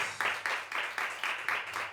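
Church congregation applauding during a service, a moderate, rhythmic clapping in unison, beating in regular pulses about four times a second.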